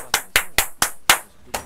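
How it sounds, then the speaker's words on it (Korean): Six sharp hand claps in a loose, uneven rhythm, close and crisp, with no voices. "일어나서 박수 한번 쳐야 돼"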